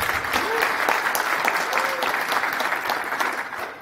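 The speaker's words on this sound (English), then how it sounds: "So please give him a round of applause." Applause from a conference audience welcoming a presenter to the stage, a steady, dense wash of many hands clapping close by, sustained throughout with a faint voice or two underneath.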